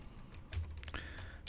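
Quiet keystrokes on a computer keyboard while entering CSS code, a few sparse, separate clicks spaced unevenly in a hushed room.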